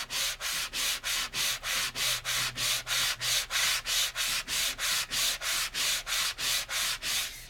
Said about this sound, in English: I think I'm gonna give this a little bit of a sand